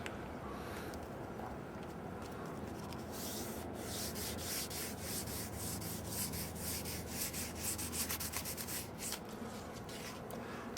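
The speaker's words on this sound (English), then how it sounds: "Now we continue to wet sand." Continuous close rubbing hiss of wet sandpaper worked over oxidized aluminum window molding on a car's dark exterior trim, steady and fairly faint with slight rhythmic strokes and no talking.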